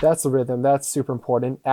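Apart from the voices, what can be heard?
No everyday noise stands out behind the speech.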